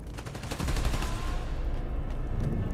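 Gunfire from Marvel's Spider-Man: Miles Morales, a continuous rattle of rapid automatic shots from several weapons, loud and dense, swelling after the first half-second and holding steady throughout.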